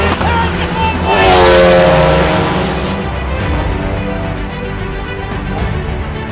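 A race car at Donington passes on its way to the checkered flag, its engine rising to a loud roar as it nears and then fading as it continues down the track.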